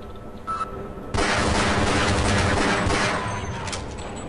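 Rapid pistol gunfire in the video game Half-Life, a loud burst of repeated close shots running continuously after a brief quieter opening.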